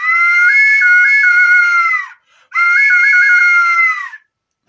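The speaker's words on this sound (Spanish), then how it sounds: "Estos silbatos producen una alteración del sonido. Al ser tres silbatos en uno y las notas ser muy pegaditas, producen un sonido pero muy fuerte" An Aztec-style triple whistle, three whistles built into one with closely spaced notes, gives two loud, piercing, wavering shrieks of about two seconds each, separated by a short pause and heard alone with no talk.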